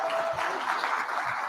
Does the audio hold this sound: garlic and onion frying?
no